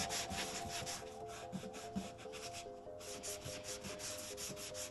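Cloth rubbing alcohol over surface rust on a vintage Singer sewing machine, a steady scratchy scrubbing with quick repeated strokes, close and moderately loud, with a low hum underneath and no talking.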